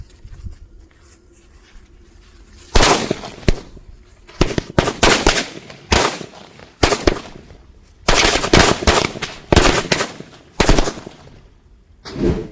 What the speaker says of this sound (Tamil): இந்த 50 வாலா 50 டீலக்ஸ்னு சொல்லிட்டு இந்த மிளகா பட்டாசு வைக்கலாம் வாங்க